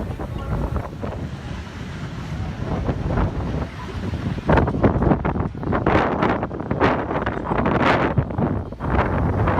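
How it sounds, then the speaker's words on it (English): Strong, cold wind in Galveston buffets the microphone in loud, irregular gusts, rumbling and roaring continuously with rising bursts toward the end. "it's windy and cold"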